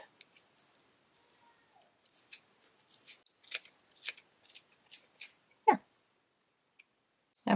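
Scissors snip through strands of yarn while a crochet Santa hat wine topper is being made, a series of quick, crisp cuts in an irregular rhythm, close and fairly quiet, with no talking.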